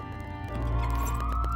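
Police sirens wail in the Leisure Suit Larry video game, entering partway through over a low background hum and then rising in a steady electronic sweep.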